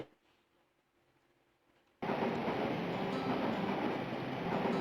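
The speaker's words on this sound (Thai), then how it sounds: "บางทีพวกเราไปที่หัวรถไฟ อาจจะทำให้รถไฟคันนี้หยุดและเปิดประตูได้ก็ได้" After about two seconds of near silence, a moving train in the RPG Maker VX Ace game New Life In Fantasy World starts a loud, steady rumble that runs unbroken to the end.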